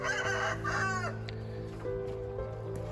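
A rooster from a meat chicken breeding flock crows once close by, a ringing harmonic call lasting about a second, followed by softer clucks and barnyard sounds.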